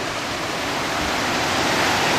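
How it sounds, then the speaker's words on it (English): Water pours steadily over a lake spillway cascade into a rocky creek, a continuous broad rushing roar heard up close with no voices. "There's the cascade, which is the spillway from the lake."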